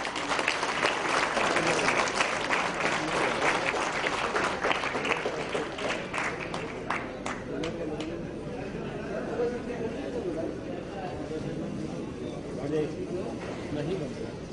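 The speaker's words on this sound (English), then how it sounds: "Can we have a huge round of applause?" An audience at a government inauguration event for a special e-governance magazine issue breaks into sustained clapping, loud at first and then thinning out while chatter and voices continue in the room.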